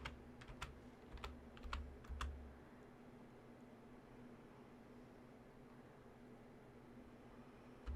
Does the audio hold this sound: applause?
no